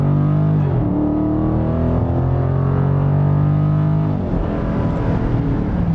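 A 2022 Dodge Charger Scat Pack Hemi V8 engine gives a deep, loud rumble that holds steady, then surges in a strong rev around the middle before settling into a throaty idle, with no talking.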